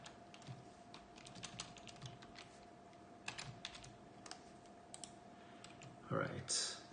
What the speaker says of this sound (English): we'll type out what our columns are